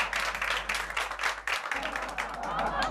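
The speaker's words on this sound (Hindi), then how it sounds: "तालियां!" Applause from a studio audience welcoming a guest on a Hindi sitcom set, dense clapping filling the whole stretch with a brief dip midway, loud and close.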